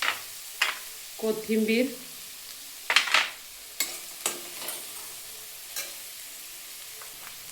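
Spoon stirring a corn paratha mixture in a pan, with scraping strokes and a light sizzle in short bursts; a voice speaks briefly.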